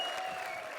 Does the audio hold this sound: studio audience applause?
yes